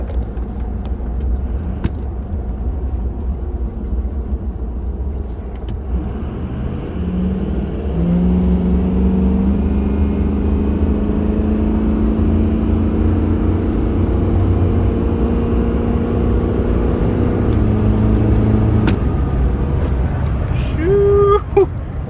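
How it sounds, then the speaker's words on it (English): A truck engine under a wide open throttle pull, with a high pressure oil pump and a blown head gasket, climbs to a loud, steady drone for about ten seconds before cutting off. Brief talk comes at the start. "I'm going to do a wide open pull"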